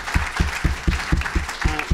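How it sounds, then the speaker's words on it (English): An audience at a closing session of a history conference at The New School claps for the program committee. The clapping is rhythmic and fairly close, with regular beats in quick succession, briefly. "Please give the program committee a round of applause."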